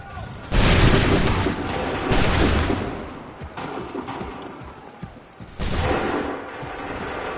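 Musket volleys in Assassin's Creed 3, heavy booming bursts of massed gunfire, two loud volleys early and another near the end, with battle noise and shouted orders between.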